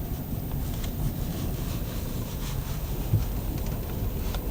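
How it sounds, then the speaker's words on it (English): Strong blizzard wind roars steadily at Point Lookout, New York, with gusts around 40 to 60 mph buffeting the microphone in a constant low rumble, with no talking. "Winds 40, 50, 60, even 60 miles an hour, blowing all over the place."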